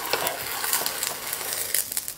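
An egg pancake fries in an oiled pan after being flipped, making a close, steady crackling sizzle with small spatter pops and no talk.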